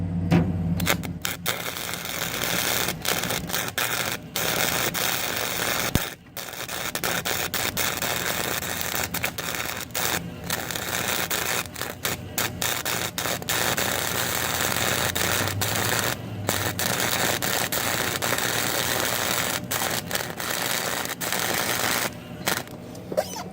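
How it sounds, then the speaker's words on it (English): Welding on a Snapper Pro mower deck: a dense, steady crackle and sputter runs for over twenty seconds, close and loud, broken by a few brief pauses. "getting the weld on."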